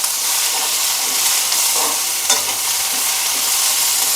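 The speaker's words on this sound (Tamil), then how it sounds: "உப்பு சேர்த்து லேசாக வதக்கிட்டு அப்படியே விட்டுருங்க." Tomatoes sauté with salt in a pan for chutney, making a continuous loud sizzle with soft stirring scrapes and one brief clink, with no voices.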